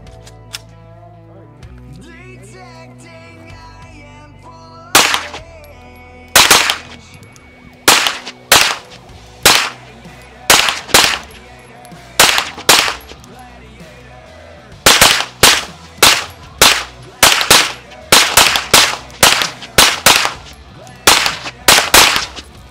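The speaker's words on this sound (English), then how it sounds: "We'll just shoot some targets from here at 10 yards, 20, 15 yards, and 20 yards." An AMG Lock Stock & Barrel kit gun fires at targets set at 10 to 20 yards, with loud, sharp shots close by, single at first and then in quickening strings of rapid fire.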